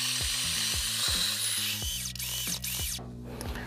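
Burr-style coffee grinder grinding roasted coffee beans at grind setting 4, a steady loud whirring grind with rhythmic clicking and ratcheting bursts throughout, alone with no talk.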